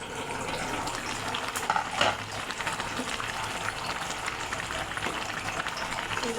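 Potatoes and fish boil in a covered pot on a kitchen stove, giving a continuous bubbling, sizzling hiss at moderate loudness. A brief clatter cuts in partway through.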